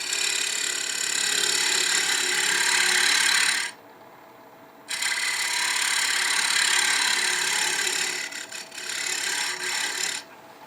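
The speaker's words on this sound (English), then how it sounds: "I'll use this negative rake scraper just to kind of refine that cove a little bit." A negative rake scraper refines a cove on a turned wooden napkin holder spinning on the lathe, giving a loud continuous hiss that stops briefly twice and then resumes, with no talking.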